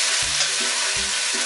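Ginger garlic paste sizzles steadily in hot oil for khichri, a loud continuous fry with a few low scraping stirs of the spoon, close and without any talk.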